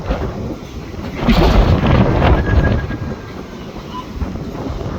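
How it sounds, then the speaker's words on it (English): Strong wind gusting up to about 70 miles per hour roars and buffets a microphone in heavy, rumbling gusts that swell and ease, loud and continuous, on a farm. "So it's pretty windy out."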